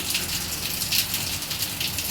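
Rain falling outdoors by a garden, a dense, steady hiss of drops on surfaces, loud and close, with no one speaking.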